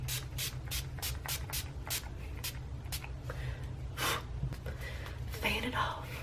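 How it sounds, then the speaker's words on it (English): Close, repeated short spritzes of a Hydra Charged Complexion Prep hydrating priming spray for dry skin, misted onto a face in about a dozen quick hissing bursts with brief pauses between. "it's a Hydra Charged Complexion Prep Priming Spray, which is supposed to be better for like dry skin and it's more hydrating"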